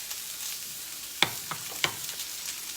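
Seasoned chicken cooking in a cast iron skillet gives a steady, fairly quiet sizzling hiss, broken by a few sharp close taps and clicks of utensils against the pan.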